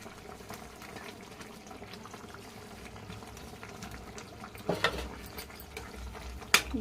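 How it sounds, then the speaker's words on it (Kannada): Soya chunks kurma gravy boils in a pan on the stove, a steady low bubbling simmer with a few louder clatters and splashes near the end. "ತಟ್ಟೆ ತೆಗೆದು ನೋಡೋಣ, ಫುಲ್ ಕುದೀತಿದೆ."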